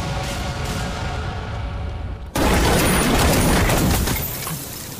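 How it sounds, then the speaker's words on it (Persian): Loud gunfire bursts in abruptly partway through a film scene, a dense volley of shots and blasts following a steady rumbling background. "به کجا دارن شلیک میکنن؟"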